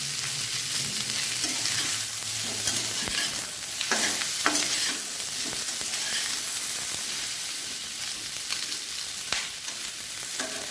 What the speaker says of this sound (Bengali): কাঁকরোলটা একটু হালকা করে ভেজে নেব।